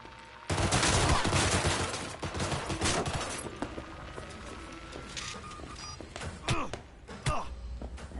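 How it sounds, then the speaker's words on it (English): Dense bursts of gunfire in Cyberpunk 2077 during a shootout with police, a loud rapid fusillade opening sharply and continuing in choppy volleys with thuds, while a voice talks over it. "You're shooting at police!"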